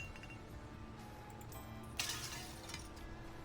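Glass bottles clink and shatter as they drop into a recycling container in the game My Recycling Center, a single bright crash midway over a steady low background hum.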